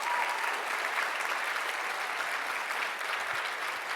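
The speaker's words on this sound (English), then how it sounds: "Can we give all the speakers who are up there on that screen a big round of applause?" Steady applause from a live audience for a group of presenters, a dense even wash of clapping that holds at a constant level throughout with no voices over it.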